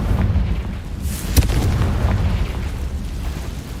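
A Confringo spell explosion in the video game Hogwarts Legacy, a dull booming blast over a dense rumbling background with one sharp crack partway through and no talking.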